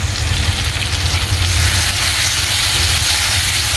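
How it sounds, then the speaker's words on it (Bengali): A spice paste fries in a pan for a kajoli fish curry, giving a loud, continuous sizzling hiss that holds steady throughout with no talking. "তা মশলাটা একটু ভেজে নিচ্ছি ভালো করে।"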